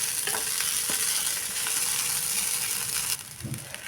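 Sabudana (tapioca pearls) sautéed in a pan until soft, a dense continuous sizzle with occasional stirring scrapes, close and fairly loud, ending with a few clatters.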